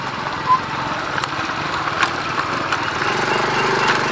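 A small motor engine runs at a steady idle nearby, a continuous buzzing drone with a few faint knocks.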